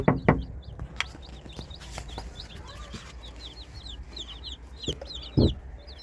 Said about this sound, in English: Can I see the chickies?